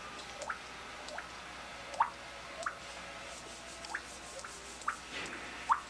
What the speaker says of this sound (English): That's the drip.